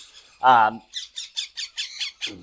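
Hand-fed baby birds at midday feeding let out one harsh squawk, then a rapid, rhythmic series of about eight high, chirping begging squeaks, close and clear.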